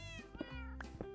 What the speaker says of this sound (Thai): ส่วนแมวก็ร้องเมียวเมียว